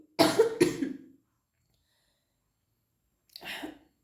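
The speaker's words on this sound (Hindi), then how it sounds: "अचानक खांसी आ रही है" Two sharp coughs in quick succession, then a short silence and one more softer cough.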